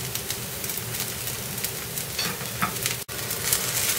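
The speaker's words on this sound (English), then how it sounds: "I'm going to transfer this paratha on this. Let it cook nicely from one side first." A sabudana (tapioca pearl) paratha sizzles steadily on a hot pan, a continuous close crackling hiss with small pops throughout, no talking.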